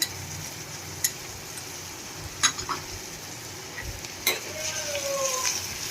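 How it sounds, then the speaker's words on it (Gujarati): Onions frying with salt in a pan and being stirred: a steady close sizzle with scattered clinks and scrapes of the spoon against the pan, and no talking. "બધું મિક્સ કરી અને આપણે ડુંગળીને એકદમ સરસ પાકવા દઈશું"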